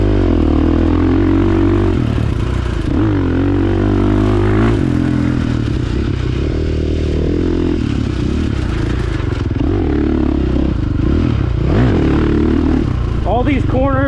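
A 2022 KTM 450 SX-F Factory Edition motocross bike rides a track, its engine droning and shifting pitch through corners while a rider talks over it throughout.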